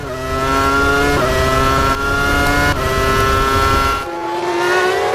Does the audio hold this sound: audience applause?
no